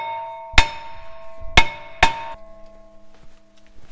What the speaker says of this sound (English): hit the backside of the rotor here